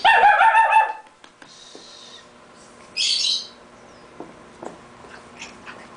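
A dog lets out a loud, close bark at the start, then a couple of shorter, fainter yelps and scattered household knocks follow in a quiet room.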